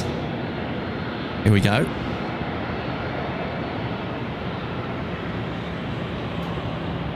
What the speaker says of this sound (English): Aircraft on finals now, Qantas 436 coming in from Melbourne